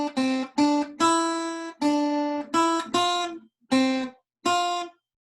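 A guitar plays the closing bars of a theme, eight clean separated notes and short phrases with clear gaps between them, bright and close, with no voices.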